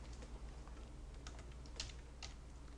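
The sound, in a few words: typing on a computer keyboard, pressing enter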